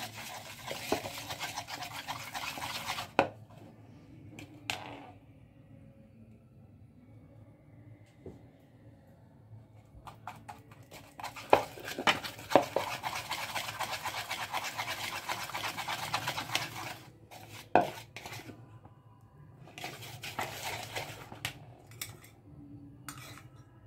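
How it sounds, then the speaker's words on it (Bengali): A spoon stirs powdered sugar into orange juice in a glass or bowl, giving close, intermittent clinks and scrapes in bursts with quieter pauses between. "দিয়ে এটা গুলে নেব।"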